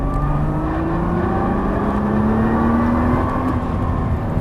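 A car accelerating hard on a race track during a GT-R driving course at Dreux, engine note climbing steadily in pitch, loud and continuous with no talk.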